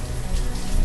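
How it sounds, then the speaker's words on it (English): Steady rain falling in the video game Banished, a dense, even hiss of drops that continues without a break for under a second, with no talk over it. "you can't see because of the rain"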